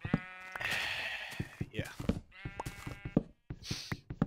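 Sheep in the video game Minecraft bleat in a run of short, nasal, wavering calls, close and fairly loud. A person speaks briefly between the calls.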